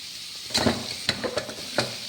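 Beef frying in a pan for a simple beef fry, a steady sizzle broken by a few sharp scraping stirs, close and moderately loud, with no voices.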